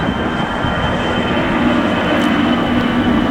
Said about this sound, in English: Beautiful sound, and there's one taking off.